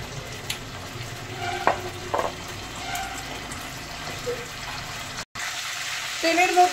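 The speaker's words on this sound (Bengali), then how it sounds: "তেলের মধ্যে তেজপাতা আর কালো জিরে ফোড়নে দিয়ে দিলাম" Bay leaves and nigella seeds sizzle in mustard oil left over from frying prawns in a wok, a continuous crackling hiss with occasional stirring clinks and a brief cut near the end.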